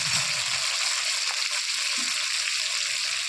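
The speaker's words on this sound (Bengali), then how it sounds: "তো এটা আমি প্রথমে ভেজে নেব।" A whole tomato and onion frying in hot oil, a steady broad sizzle filling the pan throughout with faint stirring movements, close and fairly loud, with no talking.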